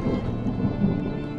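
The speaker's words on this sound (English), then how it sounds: "Was that thunder? Still distant." Distant thunder in the video game Draugen, a low steady rumble with a rain-like wash on top, continuous and moderately loud, with no voices.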